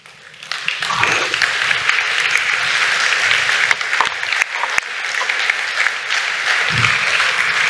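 Short applause from a conference audience welcoming a speaker joining live by video link from Brussels, steady dense clapping across the whole stretch after a quiet start.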